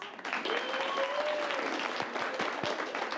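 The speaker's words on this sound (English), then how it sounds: "Give yourself a round of applause." Audience applause at an improv comedy show, a dense burst of clapping from a crowd that carries steadily and fairly close for a few seconds, with faint voices and a brief whistle-like tone mixed in.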